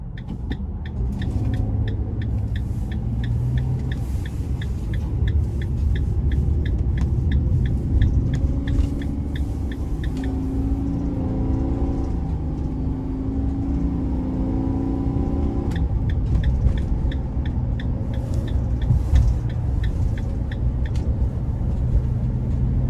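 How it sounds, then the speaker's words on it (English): A 2021 Ram 3500 Promaster conversion van cruising on the road, with a steady loud low rumble of engine and tire noise, a gentle rise in engine pitch midway, and faint rhythmic ticking from the cabin. "next is time we take this Ram 3500 Promaster out on the road for a quick test drive"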